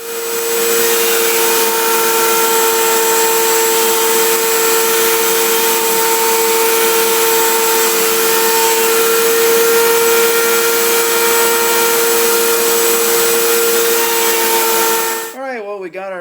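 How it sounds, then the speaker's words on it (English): A router rounds over the corners of a mahogany board with dust collection running, giving a loud, steady high-pitched whine with a hissing airflow for about fifteen seconds before spinning down abruptly. "I got the router all set up, got it on dust collection, so let's go ahead and round over these corners."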